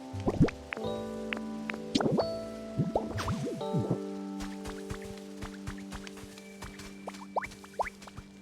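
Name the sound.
watering with water in video game Pokémon Pokopia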